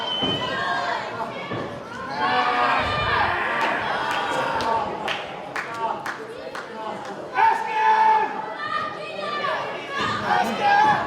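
A capacity crowd at a wrestling show in the Norfolk Masonic Temple cheers and chatters loudly and steadily throughout a match, with sharp slaps and thuds cutting through the noise.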